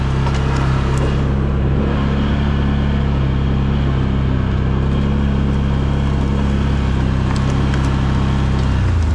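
A Can-Am Outlander 1000 XMR ATV engine drones steadily and loudly while driving in January, a continuous low rumble that holds constant throughout with no talking.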